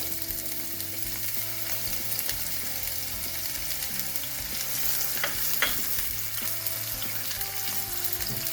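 Garlic and onion fry gently in a little olive oil in a casserole set over the heat, a soft, steady low sizzle with a few faint stirring clicks, quiet and with no voices.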